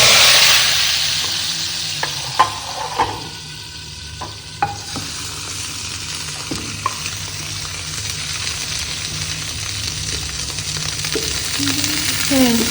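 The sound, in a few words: garlic frying for tadka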